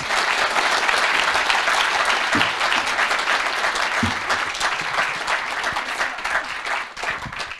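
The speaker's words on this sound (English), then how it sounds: "let's give Riley a round of applause." Audience applause for Riley Gaines at a Michigan Tech presentation, with full, sustained clapping that holds steady and then thins out near the end.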